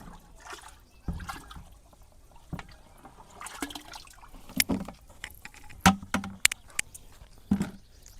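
Water sweetened with 3 kilograms of jaggery is poured and stirred into a larger volume of water for jeevamrutham, a natural-farming liquid, giving irregular sloshing, splashing and trickling sounds at close range with no talk.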